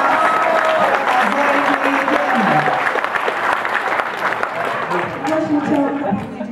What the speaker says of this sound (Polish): Ale oklaskami powitajmy jeszcze